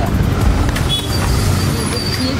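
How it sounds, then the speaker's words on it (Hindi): Congested road traffic in Mysore, India, forms a steady, dense rumble of idling and crawling engines, buses and cars, with no break in the low drone throughout. "देखिए रोड का क्या कंडीशन है, ट्रैफिक जाम है या क्या है।"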